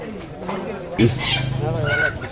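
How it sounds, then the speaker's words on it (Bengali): Native chickens cluck in short, throaty bursts close by, mixed with people bargaining over prices at a busy century-old village market. "দেশি মুরগি"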